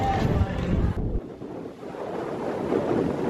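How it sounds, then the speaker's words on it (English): Strong wind buffeting the microphone on a cruise ship deck, a loud rushing roar that briefly eases then returns, with sea and ship rumble underneath. "So windy right now."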